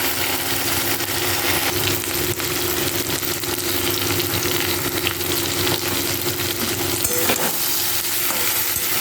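Ginger, garlic and onion spice paste with cumin, chili, salt and turmeric sautés steadily in a pan, a constant dense sizzle with faint stirring scrapes over a low steady hum, no talking.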